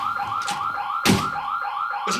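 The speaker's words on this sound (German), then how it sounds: "Ich hab die Alarmanlage getroffen." An alarm system blares in a German TV crime drama, Derrick, as a loud, steady electronic whooping tone that repeats in fast cycles, with a sharp thump partway through and no talking.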